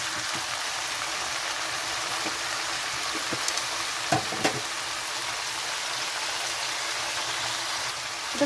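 Malabar spinach stems and cut potatoes frying in a pan, giving a steady, even hiss of sizzling oil with a few light knocks of a utensil, fairly quiet and close.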